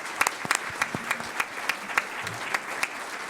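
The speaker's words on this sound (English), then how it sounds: "So just a quick round of applause." Audience applause at a civic club luncheon event, a moderate round of clapping from a seated crowd that carries on steadily with no talk over it.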